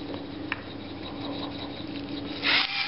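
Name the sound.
grinding fresh cracked black pepper onto beef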